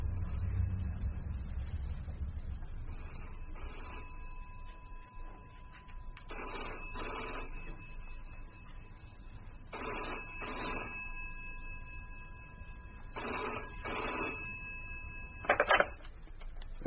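A telephone rings in a quiet room, several paired trill bursts at a moderate distance with pauses between them, ending with a brief clatter.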